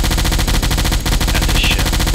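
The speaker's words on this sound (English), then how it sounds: "So I'm never going to use the anti-aircraft gun against actual aircraft, so I may as well just fire it" Submarine anti-aircraft gun in Silent Hunter IV firing at a ship, a loud, rapid, unbroken burst of automatic shots hammering close by.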